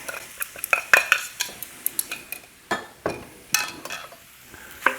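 Rice being stir-fried in a pan for spicy turkey fried rice, with close, irregular scraping and clinking of a utensil against the pan over a faint sizzle.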